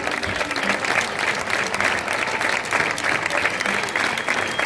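A crowd applauds steadily and loudly for the whole stretch at an outdoor live concert in a town square in Huesca, Spain, a dense wash of clapping without a break.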